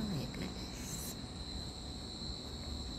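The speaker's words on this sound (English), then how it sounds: "It is so peaceful here in Brunei that you can hear crickets." Crickets chirping at night in Brunei, a continuous high-pitched trill over a low steady background murmur, heard from a distance.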